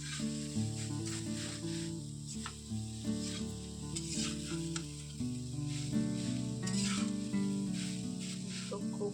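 Momo filling frying and sizzling in a pan, a steady moderate hiss with occasional stirring scrapes, heard close and continuous with faint tonal background music underneath.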